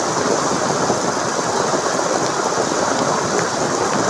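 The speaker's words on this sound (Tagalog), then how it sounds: "Lumakas bigla ang ulan, mabuti ako yung huminto dito." Sudden heavy rain pouring down during a thunderstorm, a loud, dense, continuous hiss of drops striking surfaces with low rumbling underneath, close and steady with no talk.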